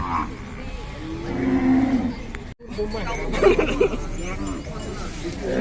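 Cattle lowing at a livestock market during evening buying and selling, deep moos rising out of a busy scene with people talking nearby throughout.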